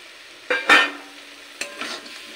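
Jackfruit, potato and prawns in spices get stirred in a pan, two brief bursts of scraping and clatter separated by a quiet pause, close and loud against a near-silent background.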